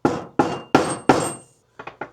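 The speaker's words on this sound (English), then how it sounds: "we're just gonna tap these centers" A hammer taps a center punch on muzzleloader parts: four sharp, ringing metallic strikes at an even pace, then a pause and three quicker, lighter taps, close and loud with no talk.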